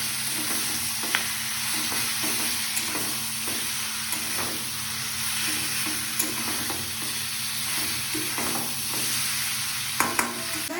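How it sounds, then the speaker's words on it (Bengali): Mutton pieces seasoned with salt and turmeric being stirred and fried in a pan, a loud continuous sizzle broken by regular scraping and knocking strokes of the spoon, close up with no voices. "এরপর এর মধ্যে দিয়ে দেবো মাংসটা ভালো করে নেড়ে নেবো"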